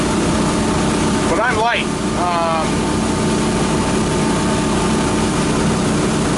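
A Volvo Penta 8.1 boat engine runs at cruise, a little over 3,200 RPM at about 27 knots, as a steady loud drone that fills the whole span beneath a short spoken line.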